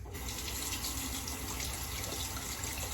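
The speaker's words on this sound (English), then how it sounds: "Cool down under the cold water." Cold water runs from a bathroom tap while someone wets their face for a shave with a British Gillette No. 58 razor: a steady, close, continuous splashing hiss that holds for the whole stretch.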